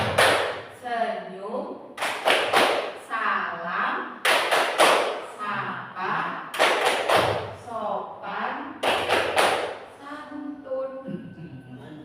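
A Tepuk 5 S clapping routine, demonstrated by a teacher at a school: five sharp groups of rhythmic claps, each followed by a chanted word, repeating in a steady pattern with voices between the clap groups.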